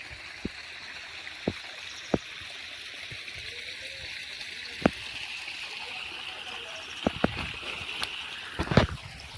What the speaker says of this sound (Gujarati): ત્યાં ફૂલ પાણી પડે છે.